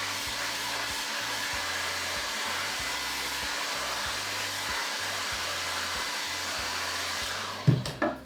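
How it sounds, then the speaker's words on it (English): A hot air gun blows steadily beneath a chocolate Easter egg mould dusted with powder, a loud continuous whirring hiss close up that cuts off with a few clunks at the end. "I'm just going to take my hot air gun and just underneath rather than the top"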